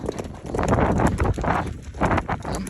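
Horses' hooves clip-clop in a quick, steady rhythm as riders mount up and move off at pace, the hoofbeats close and fairly loud over a rough outdoor background.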